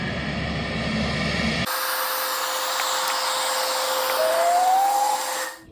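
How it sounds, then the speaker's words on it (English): Helicopter at a fire scene in the woods with the fire department arriving, a loud steady rotor and engine drone, the tone rising near the end before it fades as the aircraft moves off. "the chopper is moving on to the next thing"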